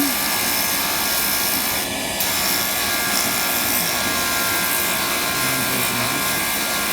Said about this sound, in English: So I'm going to grind that down a little bit more.